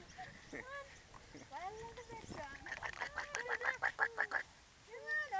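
Ducks call nearby in a rapid series of short nasal quacks, rising to a busy burst mid-way, while a person talks and laughs over them.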